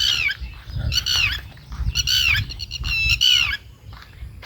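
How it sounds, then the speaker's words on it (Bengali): Birds call in a quiet village beside a dried-up river, a series of loud, harsh squawking cries repeating several times over low outdoor rumble. "পাখির আওয়াজ শুনতে পাচ্ছ?"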